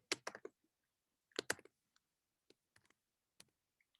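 Computer mouse clicking at a desk, a few quick clusters of crisp close clicks followed by sparser single clicks, quiet and isolated with no talking.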